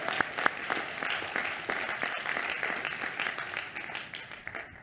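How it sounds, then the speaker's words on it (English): Graduates at a 2022 commencement ceremony clap in a sustained round of applause, a dense wash of many hands heard from some distance in a large space, with a few sharper claps standing out near the start. "Please give yourselves another round of applause to recognize this incredible moment."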